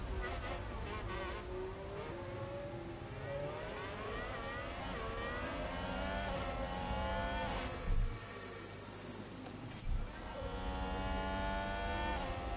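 Formula 1 race car engine in the F1 Manager 22 game at Miami, a steady high-pitched whine with rising and falling revs and gear changes, continuous throughout with a couple of brief thumps near the end.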